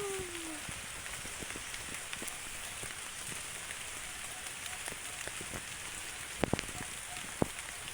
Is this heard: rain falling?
yes